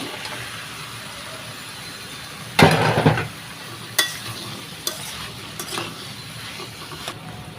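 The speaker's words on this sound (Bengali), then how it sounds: "এখন আমি এখানে যে দুন্দুলগুলো আমি দিয়ে দেব।" Sponge gourd pieces tip into a hot pan with a loud burst of sizzling and scraping, followed by a few sharper stirring knocks and softer sizzles against a steady frying hiss.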